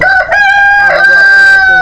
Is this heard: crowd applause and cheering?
no